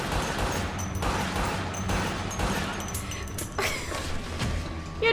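Gunfire in a TV show action scene: a dense, loud barrage of shots and crashing impacts under a busy mix, with voices talking over the noise.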